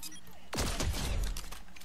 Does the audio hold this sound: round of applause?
no